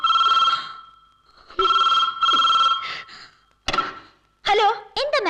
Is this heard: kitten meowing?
no